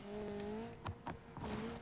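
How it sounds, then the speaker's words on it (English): A BeamNG.drive car engine in a downhill run revs up sharply as the gearbox downshifts, a rising whine with brief tire noise and a few quick bursts, close and fairly loud. "the gearbox did the thing where it over revs, where it shifts down"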